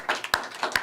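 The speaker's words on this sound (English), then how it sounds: "I don't think I'm supposed to clap right now" A single person claps a few quick, light times in a quiet room, the sharp hand slaps close and fairly soft with short gaps between them.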